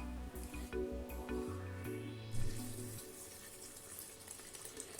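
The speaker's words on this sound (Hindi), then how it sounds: "1 गिलास बनाने के लिए मैंने इसमें पानी डाल दिया है" Water pours into a blender jar while making a single glass of fresh summer juice, a steady close splashing fill with a few short bursts at the start, no talking.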